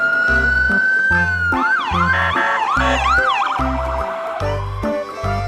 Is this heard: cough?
no